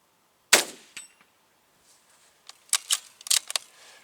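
A rifle shot at a steel plate target outdoors in strong wind, one sharp crack with quick metallic ring, then a faint tick, followed by several bright clanging rings of steel later on, alone without talk.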